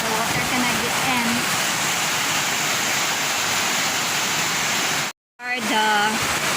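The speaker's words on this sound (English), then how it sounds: "Wow, it's so windy." Strong wind drives rain outdoors on a farm, a steady, loud broadband rush of gusting air and falling water that drops out for a moment near the end before returning.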